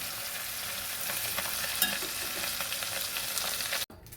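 Constant crackling sizzle of fish frying in hot oil, close and steady, with faint stirring; it cuts off abruptly near the end.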